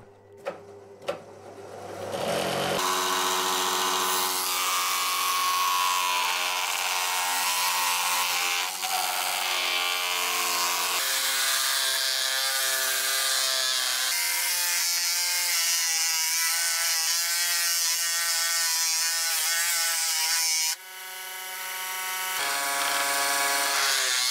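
A low-powered pillar drill spins a wooden cylinder as a makeshift lathe while it is sanded, a loud sustained motor whine with a shifting pitch that runs nearly unbroken for about twenty seconds after a brief start-up.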